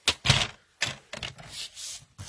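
A few close, crisp snips and slicing strokes through a piece of cardstock during card making, short separate bursts with brief quiet gaps between them.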